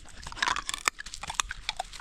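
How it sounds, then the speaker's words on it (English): A dog chews and crunches on a raw crayfish, giving quiet, irregular crackling bites and wet chomps close by, with no talking. "She's eating a crayfish for breakfast"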